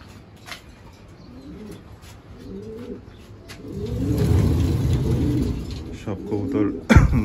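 Pigeons cooing on a rooftop, soft repeated coos in short phrases, growing louder and denser midway with a brief sharp knock near the end.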